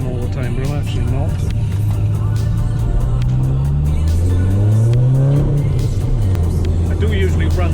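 An Audi TT accelerates hard, its engine note rising through the revs with a gear change midway, then climbing again, loud and close from inside the car, with tyre and road noise underneath.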